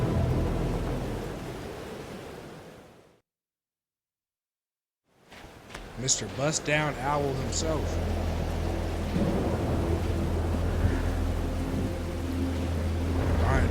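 A thunderstorm with steady rain plays in the video game Life is Strange: Double Exposure. Rain hisses continuously with rumbling thunder, broken by a short stretch of silence, and a voice speaks over it.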